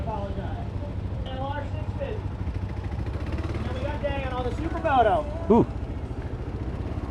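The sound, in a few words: Kawasaki KLR 650 single-cylinder motorcycle engine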